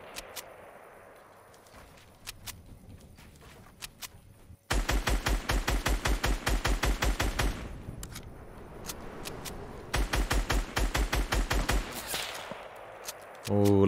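Rapid automatic gunfire from a shooter video game rattles out in two long, loud bursts of sharp repeated shots, separated by a short pause and preceded by quieter ambience.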